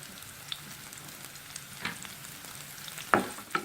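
Chopped onion, cashew nuts and red chilies fry in a pan for a pomfret sambal dish, giving a soft, steady sizzle with a few sharp spatula scrapes and clicks as they are stirred.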